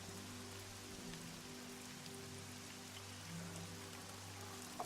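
Faint steady rain patters on a surface over a low constant hum, soft and continuous throughout.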